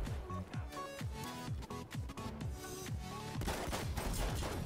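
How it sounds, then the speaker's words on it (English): Hunter 12-gauge shotgun fired in the video game Battlefield 1, with quick repeated booming blasts in a steady series over a dense, busy game soundscape. "next we've got another 12 gauge, which is the Hunter. These 12 gauges do fire very quickly."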